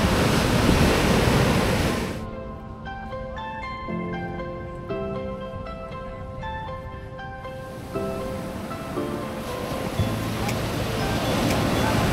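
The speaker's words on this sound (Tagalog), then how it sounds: "tingnan niyo kung gaano kalakas yung alon" Loud ocean surf roars and crashes up close, with a middle stretch where a voice and steady tones rise over the quieter water.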